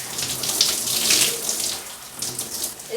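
Running water splashes steadily and loudly from a tap while hair is rinsed out in a sink or shower, a close, continuous rushing with no talk.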